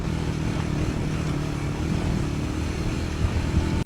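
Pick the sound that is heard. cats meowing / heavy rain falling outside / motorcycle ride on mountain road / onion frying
motorcycle ride on mountain road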